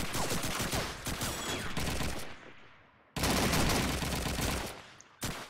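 Sustained automatic gunfire in the PC shooter Call of Duty 2 during a competitive match, a dense rattling burst of rapid shots that breaks off, then resumes loud and close before a final short burst.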